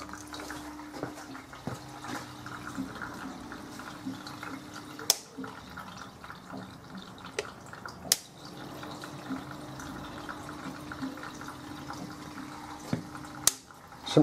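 Water draining out of a domestic central heating system during an airlock fix, a steady low trickling and gurgling flow with a few sharp clicks and knocks.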